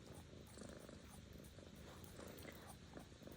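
A house cat purring close by, a steady low rumbling drone that runs unbroken through the whole stretch, with no talking over it.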